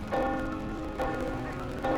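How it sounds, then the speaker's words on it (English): Bells in a game scene ring out in three swelling, evenly spaced strokes, each one resonant with a humming tail, over a dense ambient backdrop. "The bells rang louder and more fervently."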